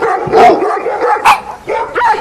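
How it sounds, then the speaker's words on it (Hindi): A pack of dogs barks loudly and close in several overlapping bursts, with sharp yips and whimpers mixed in over about two seconds. "सभी कुत्ते उसका पीछा करने लगे।"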